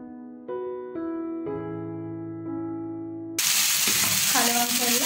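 Chicken pulao being stirred in a pot bursts into loud, continuous sizzling partway through, following a few seconds of sustained tonal sounds.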